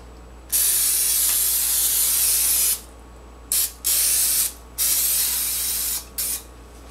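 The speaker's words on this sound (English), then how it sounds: "You're going to spray this pan." Long bursts of cooking spray hissing close up onto a cake pan, one extended spray followed by several shorter puffs with brief pauses between.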